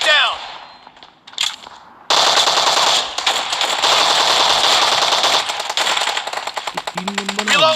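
In a PUBG match, a loud, close burst of rapid gunfire and clanging game effects kicks in after a quieter start, with sharp repeated shots continuing to the end and a brief voice near the close.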